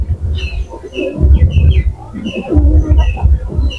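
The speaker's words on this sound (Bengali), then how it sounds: "দেখছেন কত সুন্দর ডাক দিচ্ছে কবুতর" Several Jalali pigeons coo in low, throaty rolls, close by, with birds chirping and twittering higher up throughout.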